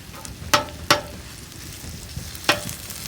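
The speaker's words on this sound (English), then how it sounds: "We're gonna get the bacon broken up, the sausage broke up" Diced bacon and spicy ground sausage fry in a hot pan with a continuous sizzle, broken by three sharp scraping jabs as the meat is broken up with a utensil.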